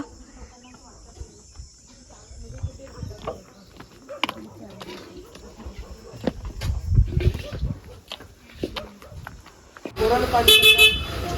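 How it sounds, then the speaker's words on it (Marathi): A wedding car arrives for the bride and the groom's party in a small village near Satara, its horn honking in a loud burst near the end, after a stretch of scattered background sounds, voices and insects. "फायनली नवरी मुलगीची आणि वराडासाठी गाडी आलेली आहे"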